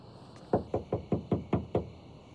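Someone raps on a door with seven evenly spaced, firm knocks, close and clear against a quiet room.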